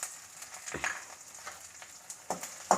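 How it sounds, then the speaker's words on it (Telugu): Green chillies frying in oil in a pan, a soft steady sizzle with scattered crackles and pops, a few sharper spits near the end, no voices. "ఇలాగా ఫ్రై చేద్దాము"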